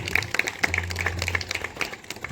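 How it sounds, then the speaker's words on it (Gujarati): Indoor applause for a guest at a restaurant meetup: a short burst of many hands clapping, a dense patter of claps lasting about two seconds, close and moderately loud. "તાળીઓના ગડગડાટથી વધાવી લેજો"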